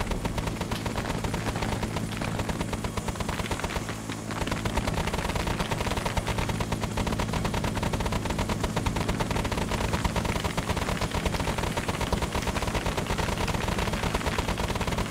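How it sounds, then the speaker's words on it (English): Dense, continuous gunfire and explosions pound a village during a called-in fire mission in the Vietnam War video game SOG: Prairie Fire, loud and close with bursts overlapping throughout and no let-up. "Zeus, if you can call a fire mission in, I want it on the village."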